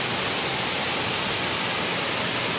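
Rushing water from a waterfall fills the space with dense, unbroken roaring noise, close and constant throughout, with no voices.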